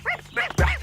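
A cartoon dog gives a couple of short, close barks and yips in under a second, alone without talk.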